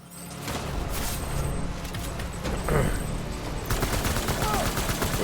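Rifle fire in the video game Death Stranding, dense rapid bursts of shots over a busy game soundscape, steady and moderately loud throughout.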